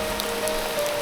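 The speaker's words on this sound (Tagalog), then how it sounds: "Inaabot ako ng ulan." Rain falling outdoors in the afternoon, a steady close patter on surfaces with no voices, lasting only a moment.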